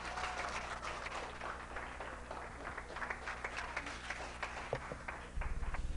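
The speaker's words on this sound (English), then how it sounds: "let's give a great round of applause" An audience at a dance show applauds its performers, a continuous crackle of many hands clapping over a low steady hum, with a few louder individual claps standing out and a thump near the end.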